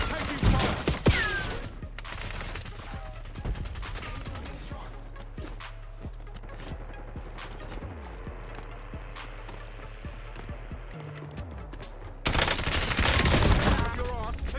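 Sustained bursts of video game gunfire crackle through a live-streamed shooter match, with dense rapid shots continuing throughout and growing louder near the end.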